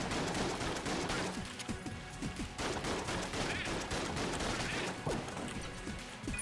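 Rapid gunfire from the video game Enter the Gungeon, a dense continuous barrage of overlapping shots and impacts with crashing bursts, loud throughout with no pauses.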